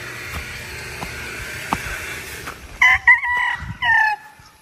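A gamecock, a fighting rooster, crows in the last two seconds in loud, close, drawn-out bursts that stand out over an earlier stretch of steady farmyard background noise.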